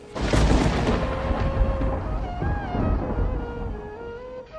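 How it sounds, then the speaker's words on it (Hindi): A deep booming rumble rolls in and lingers, fading and swelling again, like thunder echoing from far off. "दूर कहीं गरज की आवाज गूंज रही थी।"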